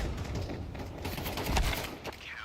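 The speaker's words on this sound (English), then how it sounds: "Perfectly handled by Illumi, farming up more kills on the AK here." AK rifle bursts in Counter-Strike during a competitive match, rapid shots mixed with game noise at moderate volume, with no voices over them.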